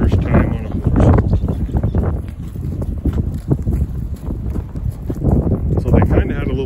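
A relaxed horse walking around a riding area with a first-time rider aboard, hooves clopping in an irregular, unhurried rhythm while a voice talks over it and wind buffets the microphone.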